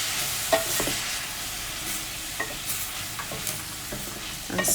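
Onions fry in a pan for a chicken quiche, a steady close sizzle with the scrape and tap of a utensil stirring them at irregular intervals.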